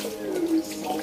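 Water runs steadily from a tap while a pet tiger cat is bathed, a short close splashing flow with a faint voice in the background.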